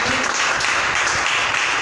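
Church congregation applauding, a loud, continuous roar of clapping from a large crowd that stays steady throughout the short stretch.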